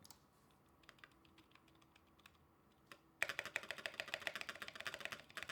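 Mechanical keyboard with Zilent switches on a stainless steel plate, TGR Jane V2 CE build: faint scattered keystrokes at first, then a sudden burst of fast, dense typing that grows louder and closer, with no talking.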